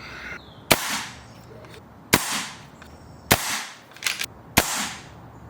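A BRK Ghost PCP air rifle firing at maximum power with the regulator set near 125 bar, four sharp, loud shots spaced about a second apart, each followed by a short ringing tail outdoors.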